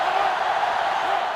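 Video game football crowd in NCAA Football 2005 roars steadily, a dense continuous cheer filling the stadium without breaks.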